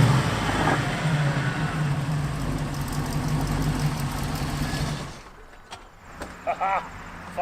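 A Chevrolet Malibu wagon engine, a cheap revived sleeper, runs steadily at a low, rumbling idle for about five seconds, then cuts off, leaving quiet room noise and a few faint sounds.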